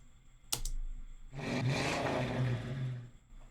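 An engine revs in a single vroom, processed lightly with Decapitator saturation: a brief click, then a loud, gritty burst that swells and holds for about two seconds before fading, with no talk.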